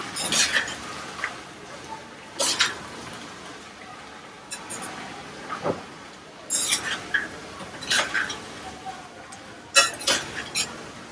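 A spoon stirs fried peanuts through poha in a pan, with intermittent scraping and clinking bursts against the metal and soft rustling between strokes, close and moderately quiet.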